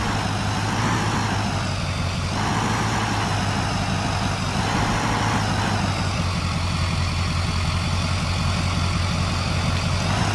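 A truck in Farming Simulator 2015 drives with a steady, loud, low engine drone that holds its pitch with only slight shifts throughout.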